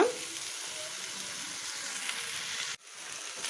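Ivy gourd sizzles steadily in a hot pan with oil, a quiet, even frying hiss that drops out briefly near the end and returns, with no talking.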